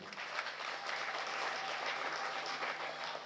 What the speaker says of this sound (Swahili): Tumpige makofi kwa ajili yake.